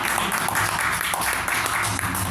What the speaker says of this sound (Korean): 우리 뜨겁게 믿음 잘 성장하도록 박수로 환영합시다